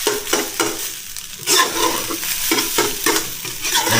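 Food frying in a pan is stirred with steady, loud scraping strokes over a continuous sizzle, the rhythmic stirring close and alone without talk.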